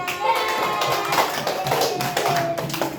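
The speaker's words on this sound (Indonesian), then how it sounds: "beri tepuk tangan untuk temannya" Children in a classroom clap for a classmate, a dense run of quick claps filling the room at close range.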